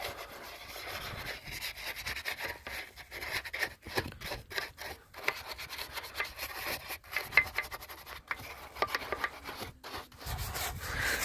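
A stiff-bristled brush scrubs car wheel rims coated with wheel cleaner, giving a run of quick, rhythmic scratchy strokes at close range, moderately quiet, with brief pauses between bursts.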